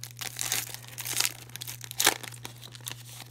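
A 2017/18 Premier hockey card pack torn open by hand without scissors: close crinkling and ripping of the wrapper in uneven bursts, loudest near the end, over a low steady hum, with no talking.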